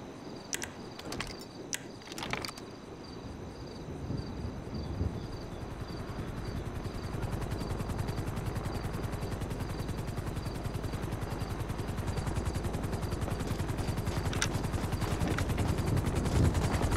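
A helicopter arrives and lands in GTA5, its rotor chop building into a steady, loud pulsing drone after a few sharp bangs at the start, with no talking.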